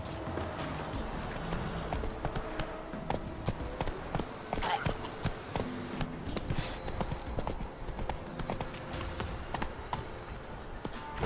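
Horse hooves clip-clop steadily in Witcher 3, a continuous run of close, rhythmic knocks with faint tack jingles and occasional brief sharper clatters.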